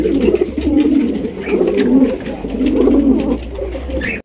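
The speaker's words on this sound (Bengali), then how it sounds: "একদম হাই কোয়ালিটির রেসার কবুতর" Racer pigeons coo steadily in close, low repeated phrases, several birds overlapping in a loud, busy loft with no talk.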